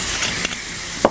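White wine poured into a hot pan of sautéed trout with lemon juice and butter sizzles in a steady hiss, with a couple of brief clinks from stirring.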